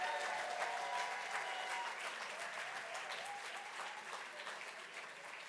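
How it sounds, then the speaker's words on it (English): Steady round of audience applause at a museum-themed gala and awards night, a dense wash of many hands clapping, fairly distant and soft, gradually easing. "Round of applause."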